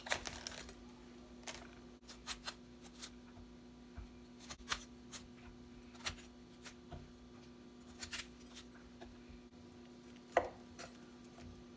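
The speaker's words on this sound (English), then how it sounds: "I'm just going to start to cut these out in chunks." A knife cuts a cauliflower into chunks on a board, with quiet, irregular taps and crunches spaced a second or so apart over a faint steady hum, and no talk.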